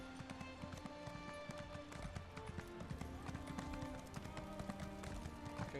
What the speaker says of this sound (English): I'm going to use my horse on your stairs now.